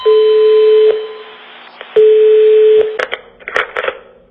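A telephone call to Spain's 016 gender-violence helpline: two long, steady tones separated by a pause, then a quick run of short, bright keypad beeps, loud and close.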